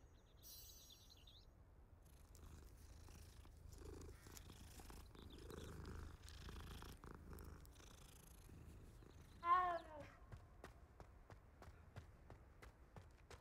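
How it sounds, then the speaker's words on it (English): A cat purrs steadily in Hogwarts Legacy, a soft continuous low rumble at close range with a brief higher chirp partway through and faint ambient game sounds behind it. "Wonder if you could pet the cat."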